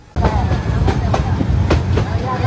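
A train in Bangladesh rolls along its rails close and loud, a dense rumble starting abruptly and carrying rhythmic clattering beats through the whole stretch.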